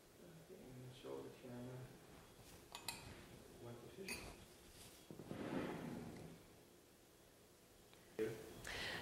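A fish marinade with cracked black pepper gets a quick stir in a dish, giving soft scraping and clinking of a utensil against the bowl, faint and close, with quiet murmured speech in the background.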